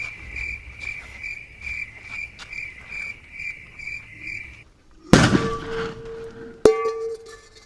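A Lakshmi bomb firecracker goes off outdoors with a sudden loud blast, then a second sharp crack, after a steady night-time chirping of crickets.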